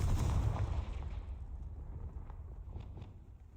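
A Confringo explosion spell in a Harry Potter video game bursts with a deep boom at the start, then rumbles and fades away, with faint crackles trailing afterward.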